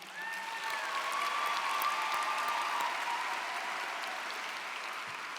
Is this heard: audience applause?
yes